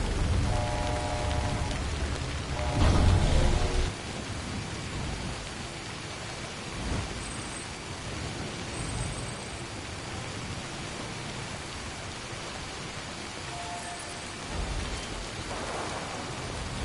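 Steady rain pours through a stormy scene in the video game Death Stranding, with a loud thunder rumble near the start and fainter rolls of thunder later, the downpour continuing throughout.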